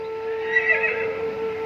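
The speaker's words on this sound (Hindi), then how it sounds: "कितना मनमोहक और सुंदर घोड़ा है" A horse neighs in a drawn-out, wavering whinny over a steady tonal hum, close and fairly loud, with no talking.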